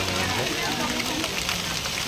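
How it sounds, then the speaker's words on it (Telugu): Heavy rain with gusty wind falling in Karimnagar city, a dense steady hiss and patter on surfaces, continuous and fairly loud, with some voices underneath. "కరీంనగర్లో భారీ వర్షం కురిసింది."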